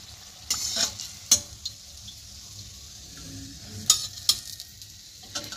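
Gujiya frying in hot oil and being turned over, giving a low steady sizzle broken by several sharp clinks and scrapes of a utensil, close and without talk.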